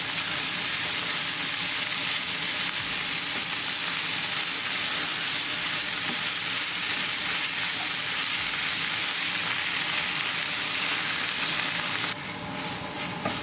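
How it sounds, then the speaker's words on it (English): Paneer bhurji with peas frying and being stirred in a pan over medium gas, a steady close sizzle that runs throughout with no voices. "Keep mixing, and now I'm going to bring the paneer."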